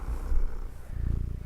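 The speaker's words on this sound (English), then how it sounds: "I got a cat." A cat purrs close by in a low, rumbling rhythm, with steady pulses that strengthen toward the end; no one speaks over it.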